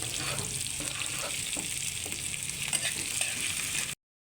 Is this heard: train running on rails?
no